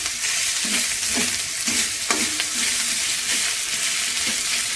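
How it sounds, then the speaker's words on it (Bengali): Chopped ginger sizzles in a hot pan, with a spatula scraping and stirring in regular strokes over the steady frying hiss, close and clear. "আদাটা একটু ফ্রাই করে নেবেন।"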